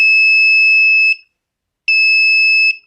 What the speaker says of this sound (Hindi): उसके बजर का आप साउंड सुन सकते हैं, कितना ज़बरदस्त और कितना तेज़ साउंड आ रहा है।